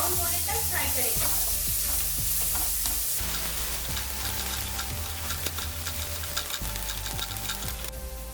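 Chopped onions fry on a medium flame, a continuous close sizzle with repeated rhythmic stirring scrapes and taps of a spatula against the pan.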